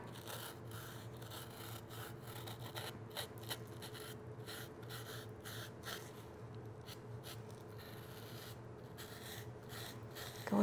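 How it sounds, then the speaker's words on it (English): A dry paintbrush scrubs over a Halloween mummy craft in quick, irregular bristly strokes, soft and close, with a faint steady hum beneath. "And when you dry brush, you try to take off any excess off the sides."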